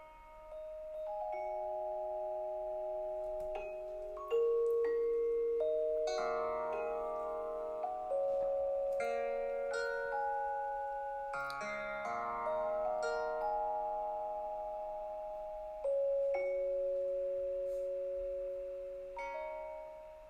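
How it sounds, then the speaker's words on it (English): Bright bell tones marking Wikipedia additions ring out at irregular intervals, overlapping in varied pitches, with occasional softer plucked string notes marking subtractions mixed in; no talking. "So the bells indicate additions, the string plucks indicate subtractions."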